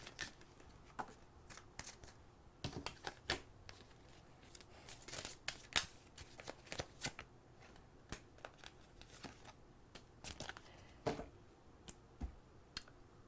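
Romance Angels oracle cards shuffled by hand, with steady crisp flicks and soft slaps of card stock repeating close up for several seconds, no voice over it.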